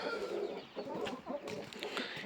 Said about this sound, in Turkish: Bakın tavuklar da böyle bir durgun.